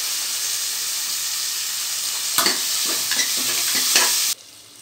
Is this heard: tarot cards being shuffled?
no